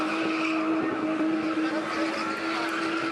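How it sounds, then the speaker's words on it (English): Cars spinning in quick, tight circles at a South African spinning motorsport event, turbocharged engines revving hard under a constant loud tire squeal and skidding roar. "a turbocharged sport where drivers spin cars in quick, tight circles while passengers perform treacherous, sometimes death-defying stunts"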